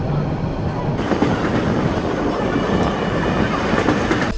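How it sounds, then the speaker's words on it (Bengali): Commuter train on the Dhaka to Narayanganj line, heard from on board as it passes Jurain station: a steady, loud rolling rumble of wheels on rails with faint rhythmic clatter. "এখন ট্রেন জুরাইন স্টেশন পাস করতেছে"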